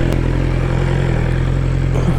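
A BMW S 1000 XR motorcycle revs up as it launches in first gear, a loud, close, rough engine roar with mechanical clatter that holds steady throughout the short burst.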